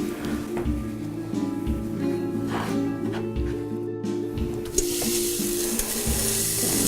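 Onions sizzle and crackle steadily in hot canola oil in a pan, with occasional stirring scrapes and a louder hiss building toward the end.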